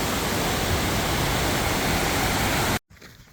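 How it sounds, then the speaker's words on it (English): Steady, loud rushing of a waterfall along the Pacific Crest Trail in the mountains, a dense broadband roar that runs unbroken before cutting off abruptly near the end. "There's just so many beautiful waterfalls here."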